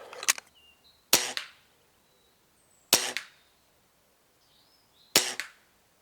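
Four gunshots from a rifle fired standing up off Primos trigger sticks, each a sharp crack with a short tail, spaced a second or two apart, close and loud against near silence.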